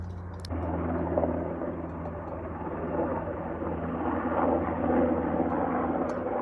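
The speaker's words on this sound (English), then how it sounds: "Here comes another helicopter." A steady low mechanical drone with a constant hum of a helicopter carrying a load, passing nearby during a wildfire, holding level throughout with no talking.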